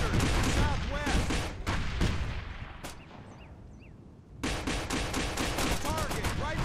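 Gunfire and mortar fire from a fire mission in the military video game Operation Flashpoint Dragon Rising. Loud, dense bursts crackle and thud steadily, drop to a quieter lull, then a fresh barrage resumes at full strength.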